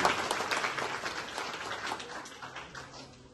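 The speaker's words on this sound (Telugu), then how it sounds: "ప్రధానమంత్రి నరేంద్ర మోడీ గారికి ఒక్కసారి మనం కృతజ్ఞతా భావంతో చప్పట్లు కొట్టాల్సిన అవసరం" An audience claps together at a public address, a dense, crackling burst of applause that starts strong and slowly thins out over about three seconds.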